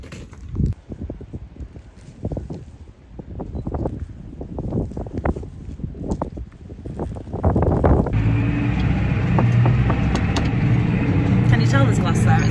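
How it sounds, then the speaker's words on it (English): Strong wind buffets the microphone in rough, roaring gusts, growing steadier and louder toward the end, while people talk nearby. "It is really windy."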